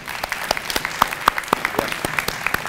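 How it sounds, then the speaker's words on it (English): An audience applauds at a dual enrollment celebration, steady close clapping with distinct individual claps throughout, no talking. "please give them all a round of applause"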